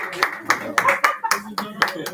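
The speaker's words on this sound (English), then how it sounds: "Round of applause for Sir." Audience clapping for a speaker at a student orientation program, heard as a handful of sharp, uneven bursts of hand claps close by, with a voice talking over them.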